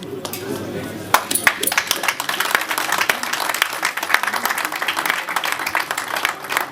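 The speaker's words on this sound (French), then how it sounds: "C'est venu un peu en retard ces applaudissements-là." A congregation claps at a 50th birthday celebration, scattered claps building into irregular, fairly loud applause under a speaking voice.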